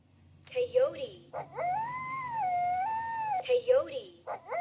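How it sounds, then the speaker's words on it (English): A coyote gives a long, wavering howl with rising and falling pitch, framed by sharper yips and yelps before and after, close and clear with no talk. "Coyote."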